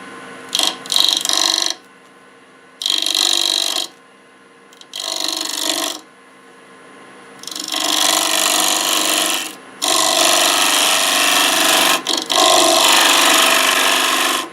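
Super glue is trimmed off the outside of a black locust bowl on a lathe, with several bursts of close rasping, rubbing cuts separated by short pauses, the later passes longer and steadier, with no talk.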